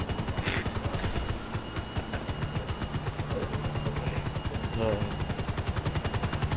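Rapid automatic gunfire aimed at a police helicopter in GTA 5, steady, loud bursts over a continuous rotor drone, with players' voices chattering now and then.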